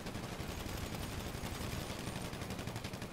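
Rapid, continuous gunfire from a multiplayer video game, dense bursts running the whole time at steady loudness with no talk over it.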